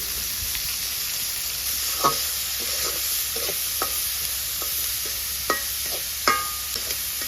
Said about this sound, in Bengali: তো মাছটা ভাজা হয়ে গেছে খুব সুন্দর একটা স্মেল বেরোচ্ছে তো এই পর্যায়ে দিয়ে দিব পেঁয়াজ মরিচ কুচি